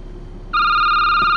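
A video game telephone, in a security job setting, starts ringing partway through after a quiet hum: a bright, electronic tone held steady and loud, with no talking.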